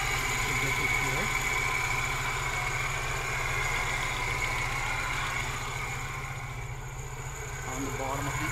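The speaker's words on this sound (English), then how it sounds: "Very nice and smooth running idle." A 1991 Moskvitch IZH 412 sedan engine idles smoothly, its close, steady low rumble and rapid even pulsing recorded up near the engine bay, staying constant throughout with a slight dip near the end.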